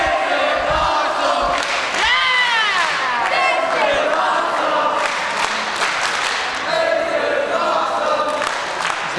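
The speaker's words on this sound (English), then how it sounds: "we've got a ravenous crowd here" Wrestling crowd at a ladder match roaring and cheering continuously, loud and close, with shouts and whoops rising above the dense crowd noise.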